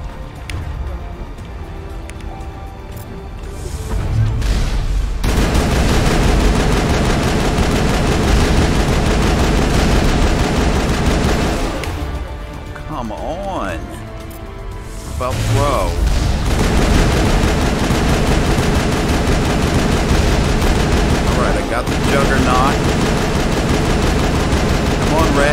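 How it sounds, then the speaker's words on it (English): Sustained automatic suppressing gunfire in the video game Mass Effect 1, loud bursts of rapid shots filling most of the stretch with brief lulls, while players talk over the combat. "Suppressing fire"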